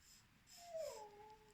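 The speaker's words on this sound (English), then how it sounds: "That's my dog crying because he wants to go out for his" A dog wanting to go out for a walk gives one drawn-out, high whine that rises and then slides downward, fairly faint, with no talking.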